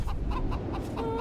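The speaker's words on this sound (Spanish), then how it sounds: "Escucha la gallina." Chicken clucking in The Witcher 2: Assassins of Kings on PC, a run of short repeated clucks over a steady low game ambience, close and fairly loud, with no talk.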